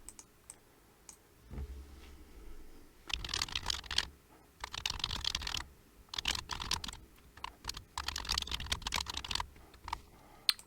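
Computer keyboard typing in irregular bursts of close clicking keystrokes, separated by short pauses, while text is entered on a webpage.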